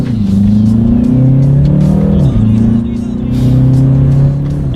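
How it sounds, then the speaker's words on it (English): A 2019 BMW 330i xDrive engine pulls hard during a paddle shifter test, rising in pitch and dropping sharply at a quick shift before climbing again, loud and close, with talk over it. "let's do that paddle shifter test here"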